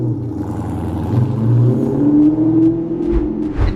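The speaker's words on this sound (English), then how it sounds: "Plus, you'll never get tired of that V8 soundtrack." Ford SN95 Mustang GT V8 rumbling and revving nearby, a deep throaty drone swelling in pitch and loudness through the middle and then easing off, with no voices over it.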